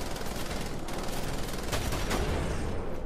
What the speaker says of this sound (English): Shoot his dumb ass.